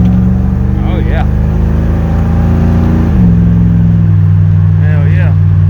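A 1993 GMC Sierra pickup with a small-block Chevy 350 V8 revs and pulls away, its loud, steady engine drone close by, with a gear shift audible midway as the pitch drops and settles lower.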